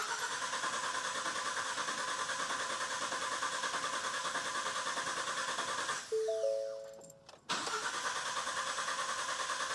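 Ford F-150 3.5L EcoBoost with a Full-Race turbo kit, idling steadily, then shut off for a brief cranking whir before firing back up and settling into a loud idle.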